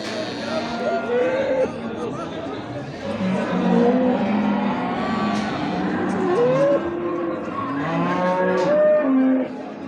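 Cattle at a livestock market in Göksun, Kahramanmaraş, including male calves, low bellowing moos overlapping one another in a busy pen, with people chattering in the background throughout.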